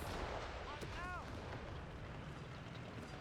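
Panzerfaust fired at infantry in Company of Heroes 3, a World War II strategy game: a single whooshing launch with a brief rising whistle amid a dense, constant wash of battle noise.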